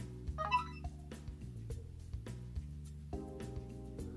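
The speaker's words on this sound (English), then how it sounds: "let's see what our ringtone is" The stock ringtone of an HTC Dream T-Mobile G1 phone plays a quiet, clipped melody of short stepped electronic notes repeating in a quick pattern, with no voice over it.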